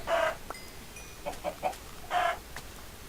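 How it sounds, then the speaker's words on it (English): A chicken in a video game clucks in short, fairly close bursts, with two louder squawks and several softer clucks in between over a quiet backdrop. "Another chicken."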